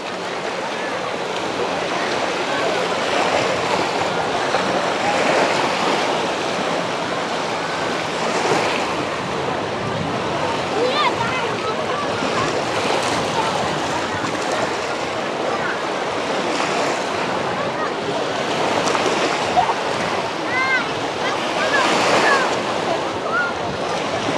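Sea waves roll onto Dzhemete beach in Anapa on an overcast day, a steady, fairly loud wash of surf that continues unbroken throughout, with some wind noise blowing across the microphone.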